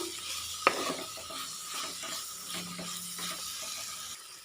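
Green chillies sautéing with ginger and garlic in a pan for a Kerala tomato okra curry: a soft, continuous sizzle with a sharp utensil tap near the start and quieter stirring after it.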